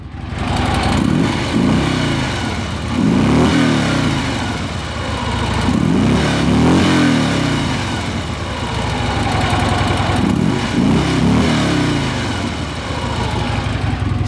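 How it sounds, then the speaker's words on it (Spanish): A Harley-Davidson Road Glide Special engine idles with a deep lumpy throb, repeatedly revving up and settling back in slow surges, loud and close. "Pueden ver cómo vibra esta motocicleta, cómo suena."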